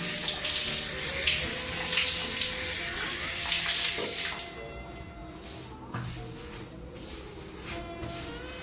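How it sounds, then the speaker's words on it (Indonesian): Tap water runs steadily into a sink while hands are washed beneath the stream, loud and close for about four seconds before the flow drops away to quieter splashing and dripping. "sudah selesai kita cuci tangan"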